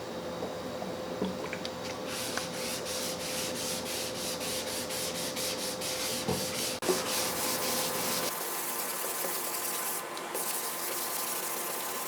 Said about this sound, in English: It's actually 600 grit wet dry. That's what I have. Sanding block.